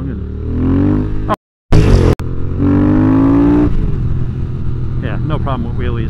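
A 2022 Triumph Speed Twin motorcycle engine droning steadily while riding, its pitch rising and falling through gear changes, loud and close with brief dropouts.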